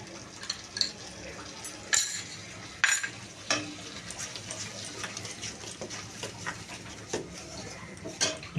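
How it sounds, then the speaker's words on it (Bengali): Spice paste of cumin, salt and turmeric frying in oil in a pan for katla fish curry: a soft continuous sizzle, with repeated scraping stirs and light clinks of a spoon against the pan. "মশলাটা কষানো হয়েছে, তেলও ছেড়ে এসছে"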